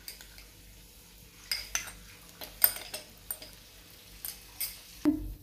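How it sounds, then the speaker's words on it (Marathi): Peeled, cut pieces of Gujarati Kesar mango dropping into a mixer jar, giving a string of soft, close clinks and thuds spaced irregularly, with a sharper knock near the end and no talk. "हे आपण मिक्सरच्या भांड्यात टाकूयात।"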